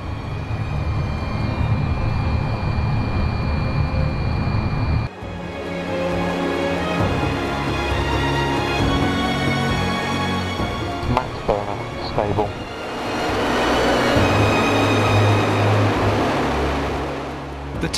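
A Rolls-Royce jet engine from an IAF Jaguar roars on a test run, shifting from minimum to maximum afterburner with a loud, sustained broadband rumble that surges again near the end.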